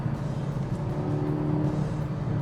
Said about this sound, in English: I'm shouting over the noise of this car